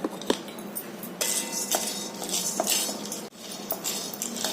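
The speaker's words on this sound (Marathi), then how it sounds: "आता कढईमध्ये फुटाणे डाळ भाजून घ्यायचं" Dry chana dal rattles and scrapes in a metal wok as it is dry-roasted and stirred, a continuous gritty clatter with small clinks, close and steady.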